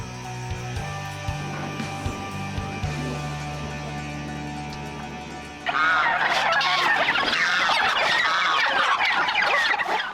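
Cemani chickens and other fowl on a farm call out, with low clucks and honking cries at first, then a sudden loud burst of overlapping squawks and gobbling in the second half.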